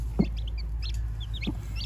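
A hen with newly hatched chicks gives two short, soft clucks about a second apart, with faint high chirps from other birds around.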